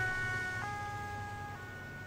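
An ambulance siren in the video game Arma wails in steady tones from a moderate distance over a low vehicle rumble, fairly faint and without talk.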